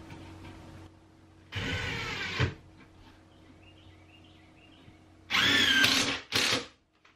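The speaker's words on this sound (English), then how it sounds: "just using some 2-inch screws to get the OSB onto the rest of the wood here" A power drill drives 2-inch screws into OSB on a wooden box shelf build, two separate bursts of whining and grinding, each lasting about a second, with quiet gaps between them.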